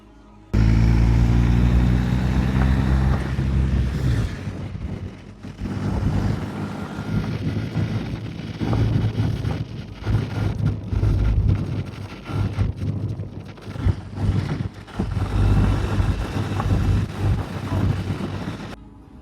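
A motorcycle ride through Marrakech: a close engine hum rises in pitch early on, then settles into steady running under heavy wind buffeting on the microphone, with no talking.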